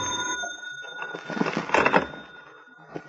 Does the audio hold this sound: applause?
no